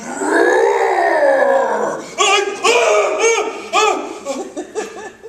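A voice lets out a long, low growling roar, then a series of shorter guttural grunts and huffs, imitating a bear.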